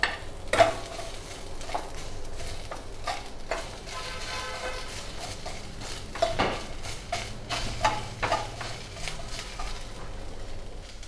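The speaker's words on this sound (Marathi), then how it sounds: "हे बघा, छान कांदा परतत आला का" Chopped onion and coconut frying in a pan, a soft sizzle under repeated scraping and stirring strokes of a utensil against the pan, close but fairly quiet.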